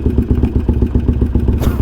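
A Harley-Davidson Iron 883 motorcycle idles very low, its engine pulsing in a steady, loping thump that stays close and fairly loud throughout, with a slight rise in revs near the end.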